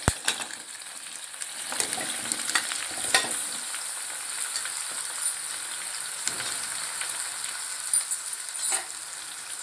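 Pumpkin and onion pieces frying in a pan for gummadikaya curry: a steady close sizzle with repeated clinks and scrapes of a spatula tossing the pieces, no talking.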